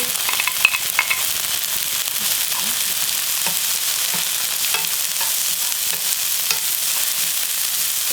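Onions stir-fried in a pan for chonggak kimchi fried rice, giving a continuous, close sizzle with scattered light stirring scrapes and no talking.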